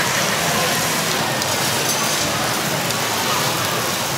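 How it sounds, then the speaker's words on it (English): Beef cheeks are seared in a hot pan, producing a dense, steady sizzle that fills the whole stretch, close and even, with no talking. "So we're going to sear each side of the meat."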